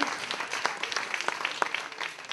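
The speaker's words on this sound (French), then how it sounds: "Je voudrais qu'on l'applaudisse très très fort" Dense applause from a theatre audience in Metz, steady clapping throughout, fairly close and lively.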